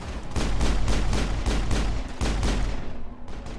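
Rapid bursts of video game gunfire from Mass Effect crackle in a fast, steady rhythm, loud and close, with a heavy low rumble under the shots.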